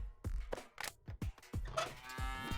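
A cow in a video game gives several short, low moos in quick succession, close and fairly loud, with faint creaking in between and no speech.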